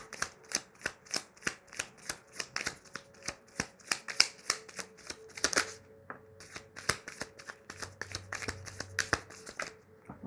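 Tarot cards being shuffled by hand in a fast run of crisp riffling flicks, steady and close, with a brief pause near the middle before the shuffling resumes.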